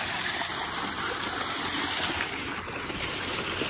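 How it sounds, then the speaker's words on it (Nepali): A stream in a rural hillside gully pours along in a continuous broadband rush, steady and moderately close, with no voices over it. "हाम्रो गोठखोलामा चाहिँ अनलिमिटेड पानी छ यहाँनिर"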